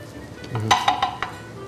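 A spoon stirs tolma stuffing of spelt grain and fried onion in a pot, making a brief cluster of scraping, clinking strokes, close and moderately loud, before settling down.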